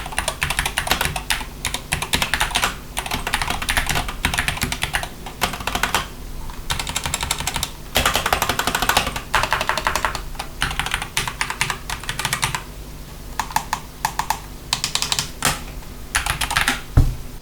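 Typing on a SteelSeries Apex Pro TKL Wireless keyboard with adjustable-actuation switches: rapid bursts of soft, muted key clicks at close range, broken by short pauses between runs.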